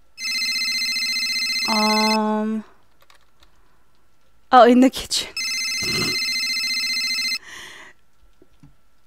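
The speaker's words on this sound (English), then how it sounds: "Where the hell is this phone?" A telephone in the horror video game Abandoned rings loudly in two long electronic bursts, with a brief spoken exclamation and clatter in the gap between them.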